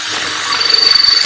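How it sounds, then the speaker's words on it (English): Power drill boring into a thin tin can for a homemade camp stove, a short whirring burst with a rough, rattling grind as the bit bites the metal, close and loud. "So now you need to break out the drill."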